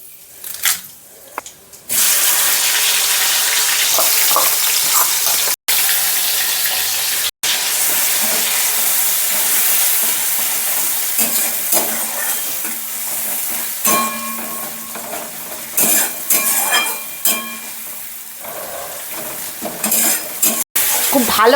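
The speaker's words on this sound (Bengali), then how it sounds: "খুব ভালো করে কিন্তু মশলাটা কষিয়ে নিতে হবে।" Spice paste sizzles and spits in hot mustard oil in a kadai, with steady broadband frying hiss and repeated stirring scrapes of a spatula against the metal, close and loud throughout.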